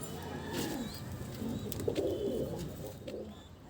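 Pigeons cooing near a nest box, soft repeated low coos close by over a faint background hum, with a few light chirps and small knocks mixed in.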